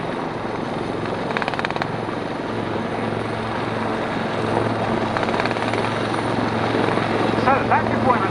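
Two Wildcat military helicopters flying at Yeovilton Air Day, a loud continuous rotor thump and engine roar with a commentator's voice faintly audible beneath it.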